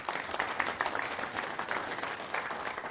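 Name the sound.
audience applause at a conference talk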